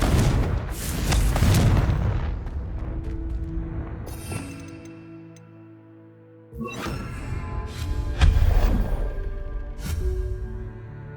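Booming explosions from the Confringo fire spell in the video game Hogwarts Legacy, loud rumbling blasts at the start and again after a brief lull, with ringing tonal game effects between them.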